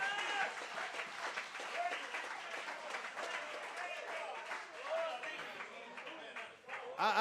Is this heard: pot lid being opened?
no